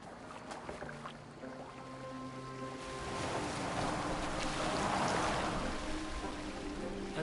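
Oars dip and splash as a boat is rowed in Assassin's Creed Valhalla, with water sloshing steadily in a broad rushing wash that swells louder midway through, and no speech.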